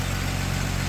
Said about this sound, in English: As you can hear, this engine is just purring along